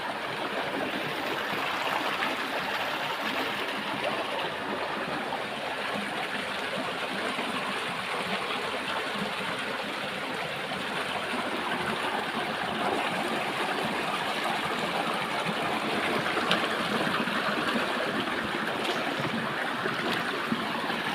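Steady rushing water flows continuously, a broad even wash of sound like a river current, with no voices.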